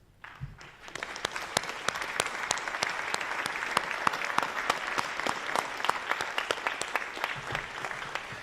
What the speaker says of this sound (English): We'd like to all give you a round of applause.